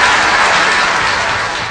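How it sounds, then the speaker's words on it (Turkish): Dense, steady applause from a group fills the whole short stretch at close range, staying loud throughout with only a slight fade near the end. "O zaman sana ve de babana da son bir kez yönetmen abimiz bir alkış göndersin lütfen."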